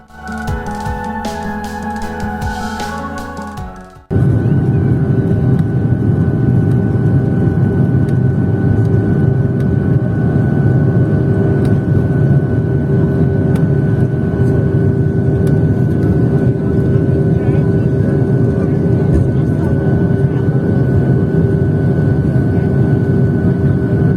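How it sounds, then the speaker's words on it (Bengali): A passenger airplane on the main runway, its engine roar rising into a loud, steady, continuous drone heard from inside the cabin after a brief quieter stretch. "আমাদের বিমানটি এখন মেন রানওয়েতে চলে এসেছে আশা করি আর অল্প সময়ের মধ্যে আমাদের বিমানটি টেক অফ করবে"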